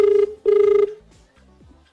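A telephone rings loud and close in two electronic bursts, a long steady tone, a short gap, then a second ring, followed by quieter clatter and a faint voice at the end.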